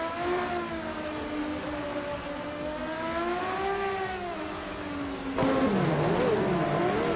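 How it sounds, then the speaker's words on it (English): A 1983 Sauber C7 Group C race car screams through a racing game with a steady, loud high-pitched engine whine. The pitch rises and falls through gear changes, then shifts abruptly to a harsher, louder drone near the end. "Newts is driving a 1983 Sauber C7, a car known for its agility and sharp handling"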